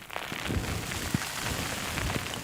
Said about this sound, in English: It's actually raining and my tent's just flapping around